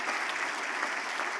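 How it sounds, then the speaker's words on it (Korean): A church congregation at a Korean church in Orange County applauds after a baptism, producing steady, moderately loud clapping from many people that continues evenly throughout. "한번 우리 두 사람 한번 박수로 격려해 주시면 감사하겠습니다."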